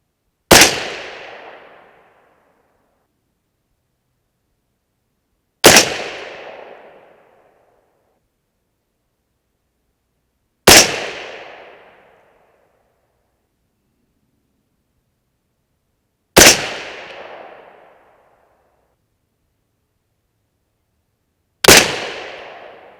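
Five loud, sharp 6.5 Creedmoor rifle shots loaded with H414 powder and Barnes TTSX or Cavity Back MKZ bullets, evenly spaced about five seconds apart, each ringing out in a short decaying echo, with silence between them.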